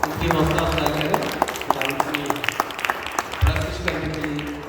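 A church congregation at a Punjabi Christmas Day celebration breaks into sustained applause, many hands clapping in a dense, lively wash with sharper individual claps standing out.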